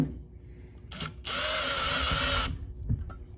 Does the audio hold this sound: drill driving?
yes